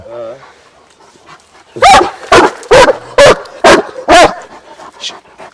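Kangal-cross dogs scuffle and bark in a rapid series of about six loud, close barks and snarls, with softer whimpers before and after.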